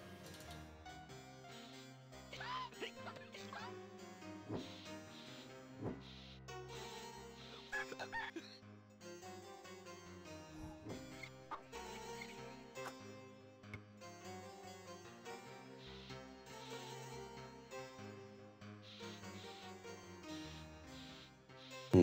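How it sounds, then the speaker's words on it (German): A rooster crowing in the video game Discworld 2, cock-a-doodle-doo calls layered over busy, continuous game music. "dann den Hahn krähen lassen"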